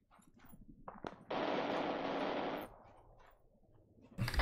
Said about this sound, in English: I'm hearing shots to the west somewhere.